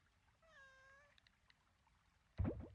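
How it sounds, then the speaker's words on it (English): A cat in the video game Coral Island gives one short, rising meow, faint and clean against a quiet background. A louder, brief splashing rush follows a moment later. "Cat is loud."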